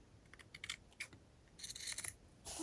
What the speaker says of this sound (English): I'm going to just cut these like so.